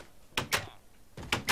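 Zombie banging on a wooden door in Minecraft: four loud thuds, a pair and then another pair, close and alone.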